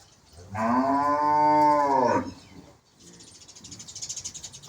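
A cow weakened by foot-and-mouth disease gives one long, loud, drawn-out moo lasting nearly two seconds, then quieter rustling and faint bird chirps follow.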